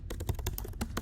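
Quick bursts of typing on a computer keyboard, a rapid irregular patter of close, crisp key taps during a product demo.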